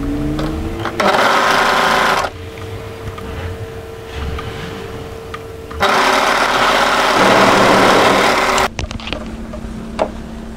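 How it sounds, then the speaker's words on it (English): An overlocker sews a raglan hoodie sleeve seam in two close, loud runs of a few seconds each, separated by a quieter pause, with brief handling noise at the end. "And overlock that together."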